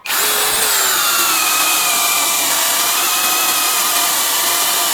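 A Blackfoot 21V PT1211021 impact drill bores into a 7.5 cm thick meranti wood beam at high speed, a loud continuous whine and grinding rasp that stays steady throughout, close up and without speech.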